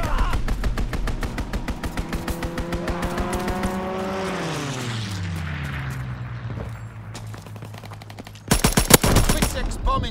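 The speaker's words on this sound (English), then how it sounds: "Enemy strafing run inbound." Heavy machine-gun fire and aircraft roar during an enemy strafing run in the World War II shooter Call of Duty: WWII, with a plane's pitch sweeping down over continuous bursts, then a loud close burst of rapid gunfire at the end.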